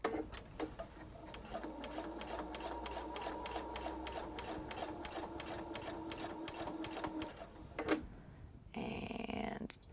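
A sewing machine stitches a quilted travel tote in a fast, even mechanical rattle for several seconds, then stops and gives way to brief handling noises.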